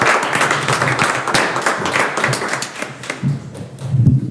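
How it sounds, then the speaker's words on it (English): Applause fills a county school board meeting in Preston County, West Virginia: a room of hands clapping in a continuous, moderately loud patter with scattered sharper claps, fading slightly toward the end. "if we can give these, every one of these guys a big round of applause"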